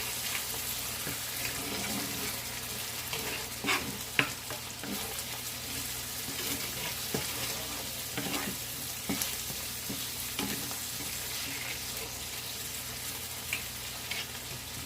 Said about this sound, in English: Kind of stir this around, get it all nice and combined.